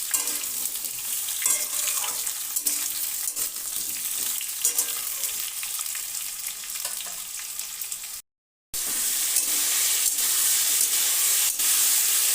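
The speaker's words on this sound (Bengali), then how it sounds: "দিয়ে ভালো করে নেড়ে চেড়ে এবার ঝিঙেটাকে ভেজে নেব।" Ridge gourd frying in a pan over medium heat, a steady close sizzle with stirring scrapes throughout, broken by a brief silent gap before the hiss resumes.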